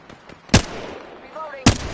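Video game gunfire with two sharp, loud shots standing out above quieter background game sounds and a brief tonal whine between them.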